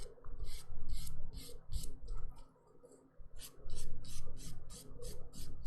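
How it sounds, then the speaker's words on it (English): Dip powder nails are lightly buffed in quick, rhythmic rasping strokes, close and fairly soft, with a short pause midway before the steady back-and-forth resumes. "By lightly buffing everything."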